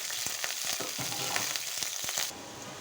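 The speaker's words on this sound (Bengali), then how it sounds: "এই যে পেঁয়াজটা একটু ভাইজা নিলাম লাল লাল করে" Chopped onion frying in hot oil for chicken bhuna, a dense close sizzle with stirring scrapes and clicks, dropping to a quieter hiss at the end, no voices.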